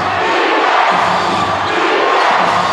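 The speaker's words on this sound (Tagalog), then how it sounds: "Crowd rocking it here inside the venue" A basketball crowd roars and cheers inside the venue during an MPBL game between Muntinlupa and Parañaque, a dense, loud, continuous wall of voices.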